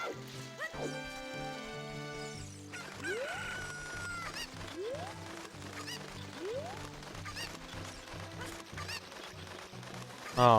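A Cucco chicken in Ocarina of Time clucks and squawks repeatedly in short rising calls over game music, with a crash-like burst near the end.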